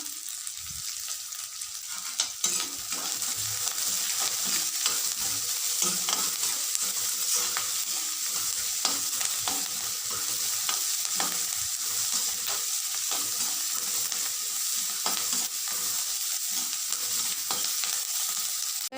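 Raw banana puttu mixture is sautéed in a pan: a continuous close sizzle with frequent quick spatula scrapes and taps in an uneven rhythm, no voices.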